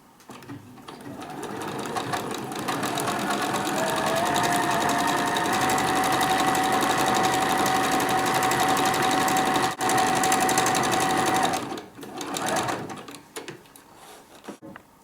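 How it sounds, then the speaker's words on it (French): Sewing machine running a decorative stitch along the edge of a rounded pocket, a loud, steady close-up whir with a continuous hum that runs for about eleven seconds, then stops with a few short mechanical clicks. "je mets mon pied presseur au bord de ma poche et je lance le dessin"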